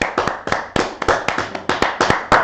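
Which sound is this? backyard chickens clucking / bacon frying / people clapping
people clapping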